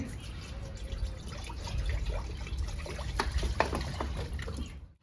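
Water is poured into a wok with chopped spinach leaves for boiling, a close splashing, trickling pour with scattered drips that builds slightly before stopping abruptly.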